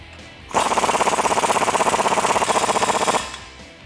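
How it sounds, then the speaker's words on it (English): An impact wrench with a 1 1/16 inch socket tightens the lower strut mount bolt on a 2021-2022 Ford Bronco during a suspension lift install, giving a close, loud rapid hammering burst of about three seconds, with no talking. "Now we're going to use our 1 1/16 inch socket to tighten down our lower strut mount bolt"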